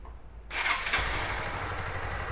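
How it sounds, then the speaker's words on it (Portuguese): A car engine cranks and fires up in a workshop after near silence, with a sudden loud catch followed by a steady, slightly rough idle that continues to the end. "Então vou ligar o motor agora."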